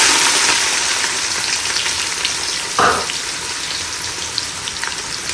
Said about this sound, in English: so I have my scotch bonnet pepper here, so I'm just going to fry together.